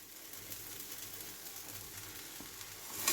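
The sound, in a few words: rice added to a sizzling pan of masala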